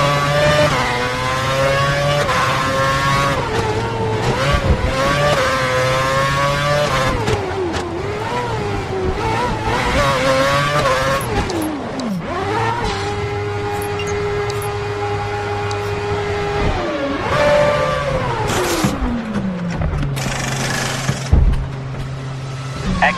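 A race car engine screams at full revs on track, its pitch climbing through gears and dropping sharply on downshifts, loud and close, with revving continuing throughout.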